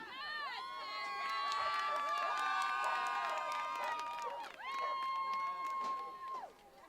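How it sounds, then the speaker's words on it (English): A crowd at the 2014 World Agility Open dog agility team pentathlon cheers with sustained rising and falling whoops, scattered clapping, then a brief lull before a second burst of cheering fades out. "we hear the English crowd, proud to be represented here by Sarah McLean"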